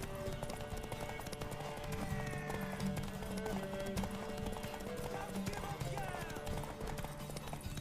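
Rapid hoofbeats of a galloping horse in a video game, steady and continuous throughout, with a snort or whinny and voices mixed in.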